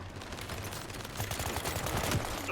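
Dense, continuous gunfire with RPG shots in the shooter game Battlefield 2042, rapid bursts layered into a loud, unbroken fusillade.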